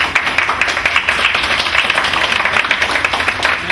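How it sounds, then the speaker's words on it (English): An audience at an evening meeting claps for the speakers, a dense, steady round of close applause lasting throughout with no talk over it. "I'd like to give a round of applause to our speakers."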